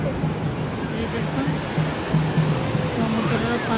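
Steady, loud rushing surf at Chandrabhaga beach, Konark, fills the scene with a constant wash of water noise, while a voice talks faintly underneath.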